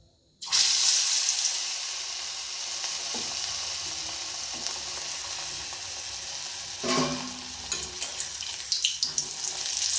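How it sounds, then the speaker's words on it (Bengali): A batter-dipped potato chop drops into hot oil in a wok and sets off a sudden loud sizzle that settles into steady, crackling frying. Bubbling bursts and small pops come near the end, and no voices are heard. "তেল গরম হয়ে গেছে। এবার ব্যাটারটাকে নিয়ে আলুটা ব্যাটারের মধ্যে চুবিয়ে কড়ার মধ্যে ছেড়ে দিচ্ছি।"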